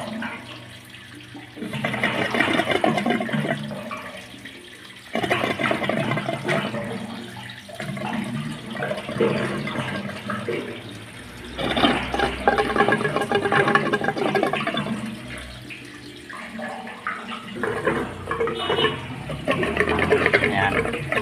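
Water gurgling and draining from a toilet being unclogged with a plunger, repeated surging and rushing bursts that rise and fall over about twenty seconds, close and fairly loud.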